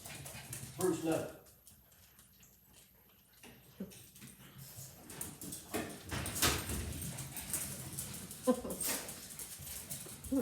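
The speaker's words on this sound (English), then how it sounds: "You hear my dog outside." A dog kept outside barks and whimpers at a distance, with yips and whines rising over a home kitchen's background noise, while people talk nearby.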